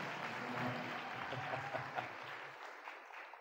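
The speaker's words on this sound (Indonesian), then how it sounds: "Tepuk tangan buat kakak kita hari ini ya." Brief, fairly faint applause from a seminar audience for a participant, scattered clapping with a voice briefly audible early on before it thins out and stops.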